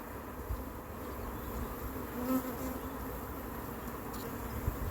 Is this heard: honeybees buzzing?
yes